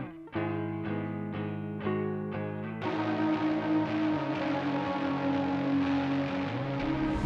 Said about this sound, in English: This is what my guitar parts sound like with and without my Duster pedal board.